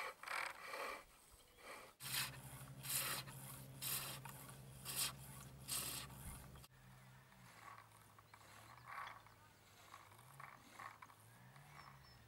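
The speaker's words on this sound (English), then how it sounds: "cleaning up the ends with the skew chisel to achieve a really smooth finish" A skew chisel trims the ends of a spinning wooden baby's rattle on a lathe, giving a quiet, steady rasping scrape with rhythmic ticking over a low machine hum, then fading to a softer whirr.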